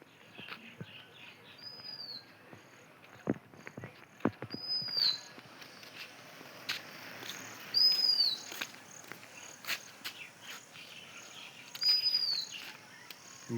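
Birds calling in the open around a statue of Lord Shiva in early morning, with several short chirps recurring every few seconds over a steady insect-like background hum.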